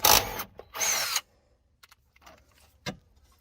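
A 7mm socket on an impact driver backing out fog light housing bolts on a 2018-22 Jeep JL/JT bumper: two short loud whirring bursts, then quiet with a few small metallic clicks and a thud.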